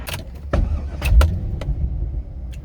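A Chevrolet C5 Corvette idles at a fuel station with a steady low engine rumble, broken by a few sharp clicks and clunks nearby.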